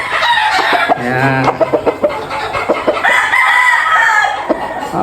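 Gamefowl roosters on a farm crow loudly and close by, with clucking and other birds scattered around them, while someone briefly speaks over the calls.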